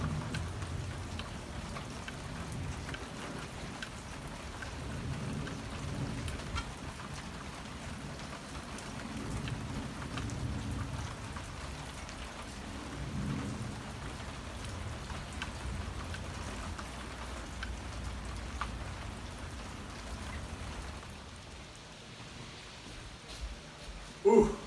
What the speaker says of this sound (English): Rain is just pouring down